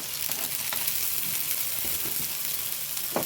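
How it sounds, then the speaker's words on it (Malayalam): Crushed small shallots hit hot coconut oil in a pan, giving a steady close sizzle and crackle with a few stirring scrapes and pops throughout, no talking. "ഇനി കുറച്ച് ചെറിയ ഉള്ളി ചതച്ചതും കൂടി ഇട്ട് കൊടുക്കുന്നുണ്ട്"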